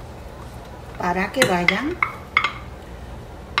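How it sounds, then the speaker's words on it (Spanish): Chopped onion with red and green peppers tossed into a hot pan for Puerto Rican coconut-milk shrimp, a few clattering scrapes and light sizzle while someone speaks briefly. "vamos a echar la cebolla, los pimientos rojos, los pimientos verdes"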